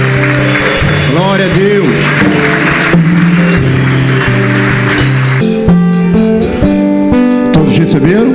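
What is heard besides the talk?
applause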